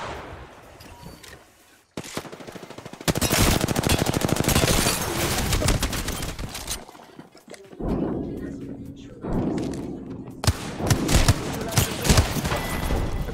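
Gunfire hits the player from both sides in Apex Legends. Dense, loud bursts of automatic fire and impacts rattle on and off, with brief gaps between volleys.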